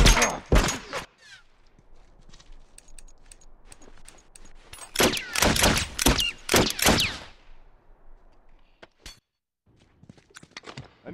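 In The Last of Us multiplayer, a Supply Raid match, turret gunfire rips out in sharp, loud bursts: a quick pair at the start, then a dense, rapid volley midway, with scattered faint clicks and thuds between.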